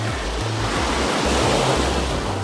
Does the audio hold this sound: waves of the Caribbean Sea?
yes